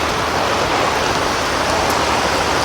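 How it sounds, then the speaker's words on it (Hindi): Heavy rain pours in a dense, loud, unbroken hiss during a night stop for food, steady throughout with no other sounds standing out. "बारिश बहुत तेज हो रही है"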